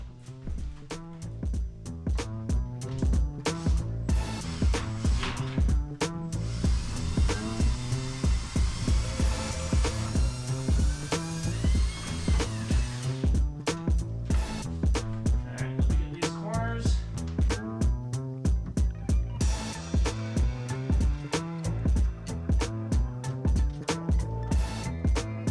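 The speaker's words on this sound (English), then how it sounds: "so I'm boring holes in the top and the bottom" A power drill bores holes through the wall of a skoolie school bus being fitted with RV windows, loud and continuous with rapid rhythmic pulsing throughout and no talk over it.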